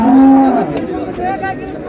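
Cows and calves of improved dairy breeds at a crowded rural cattle market in Dinajpur, with one loud, drawn-out moo up close at the start over a busy background of crowd chatter and market noise.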